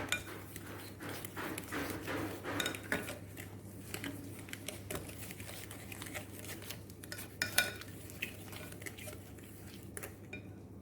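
Eggs are being mixed into cake batter in a bowl, giving irregular clinks and scrapes of a utensil against the bowl with soft stirring in between, fairly close and without talk.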